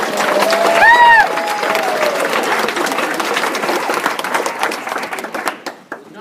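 A crowd gathered at the US Embassy in Nepal after an earthquake applauds in dense, sustained clapping with a brief high whoop early on, then the clapping thins and fades toward the end.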